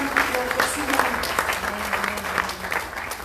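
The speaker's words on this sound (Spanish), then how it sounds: "Denle un aplauso al Señor" Congregation applauding the Lord during a church worship service, a steady wash of hand clapping with scattered sharper claps, mingled with voices and a held sung or spoken tone underneath.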